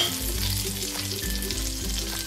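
Pesto sauce being stirred into rice in a hot frying pan: a close, continuous sizzle with soft scraping and mixing sounds throughout, no talking.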